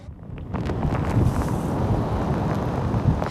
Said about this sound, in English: you can still feel these heavy gusts of wind